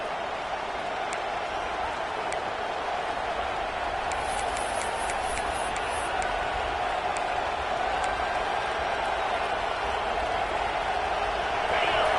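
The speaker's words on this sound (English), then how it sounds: "Here comes this home crowd as the defense tries to get off the field on third down" A home crowd at an NCAA college football game roars steadily, loud and sustained throughout, with faint whistle-like chirps partway through and no talk.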